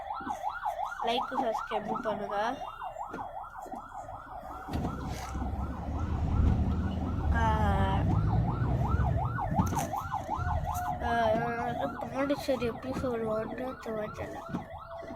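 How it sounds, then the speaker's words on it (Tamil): An ambulance siren wails in a repeating rising-and-falling pattern, loud and sustained as it passes, with traffic rumble underneath and someone speaking over it. "ஆம்புலன்ஸ் போகிறேன்னு நினைக்கிறேன்"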